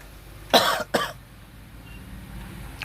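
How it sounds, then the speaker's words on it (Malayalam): Two quick, rough coughs from one person, close and loud, followed by quiet room tone. "ചെറിയ ചുമയുണ്ട്"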